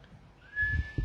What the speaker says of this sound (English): Whistle.